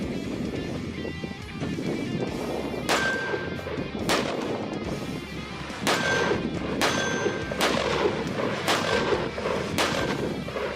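Sharp gunshots from a POF CMR Revolution .308 pistol fired outdoors, about seven loud, widely spaced reports with ringing echoes over a steady background of wind and ambient noise.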